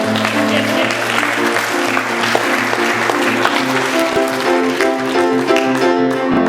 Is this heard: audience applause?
yes